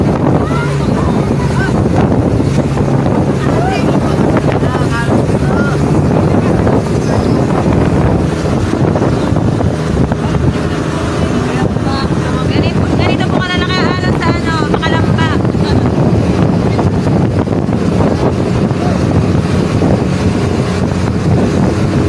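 Boat crossing big waves on the open water of Laguna Lake near Talim Island toward Calamba, with steady loud wind buffeting the microphone, continuous engine and water rush, and a voice talking briefly partway through.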